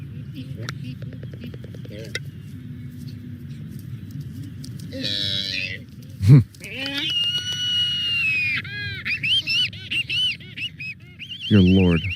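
A black-footed albatross gives a run of nasal, honking, wavering calls, loud and close, with bursts of whining cries, and people talk and react over parts of it.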